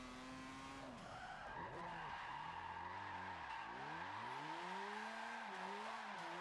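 Tires squeal and skid continuously as a Mazda RX7 drifts in Forza Motorsport 7, with long wavering screeches rising and falling over a steady engine drone throughout.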